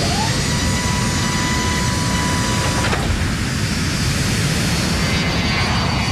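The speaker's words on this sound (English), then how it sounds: "At 11:42, the plane takes off." A jet airliner roars steadily at full thrust during takeoff, a loud continuous engine rumble with a high whine on top, no voices.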